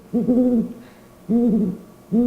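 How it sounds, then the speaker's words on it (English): A captive owl gives three hoots, each a clear, mellow tone; the first is long and wavering, the second follows after a pause and the third is short. The hoots are close, with no talk. "people are going to hear owls before they ever see them"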